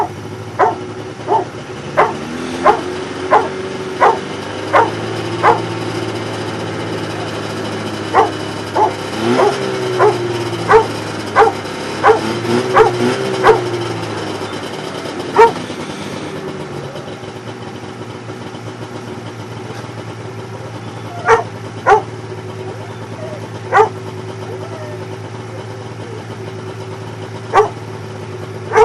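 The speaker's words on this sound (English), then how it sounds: "I apologize for the barking." A dog barks in a home shop where a Polaris TXL snowmobile motor is being rebuilt. There is a quick run of repeated sharp barks, then a pause, then several scattered single barks over a low steady hum.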